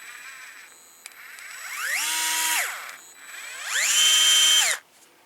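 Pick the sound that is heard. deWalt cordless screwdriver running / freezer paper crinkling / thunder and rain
deWalt cordless screwdriver running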